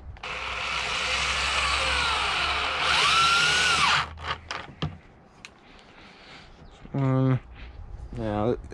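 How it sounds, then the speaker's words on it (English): A power drill drives screws into a new wooden garden box during assembly, with a loud sustained whir for about four seconds, then short bursts of spin-up later on. Brief handling knocks fall between the drill runs. "Much simpler using a drill than it is to screw it in by hand."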